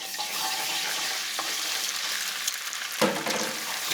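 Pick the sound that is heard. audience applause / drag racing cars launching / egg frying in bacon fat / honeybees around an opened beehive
egg frying in bacon fat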